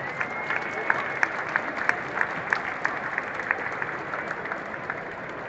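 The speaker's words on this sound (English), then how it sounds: "Big round of applause for that" An outdoor charity race crowd at Scotia Plaza in Toronto claps steadily, a fairly distant, dense wash of applause with scattered sharper claps and a few cheers or voices mixed in.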